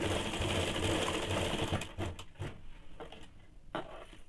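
A sewing machine runs a seam on a heavy-size petticoat with a fast, dense, close stitching rattle, then slows and stops, leaving a few scattered clicks and handling knocks.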